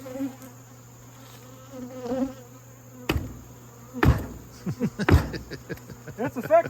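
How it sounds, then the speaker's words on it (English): Honeybees buzz and hum around a hive in a steady drone with several sharp knocks, while people talk over it. "there's already bees stinging it. They're already coming out."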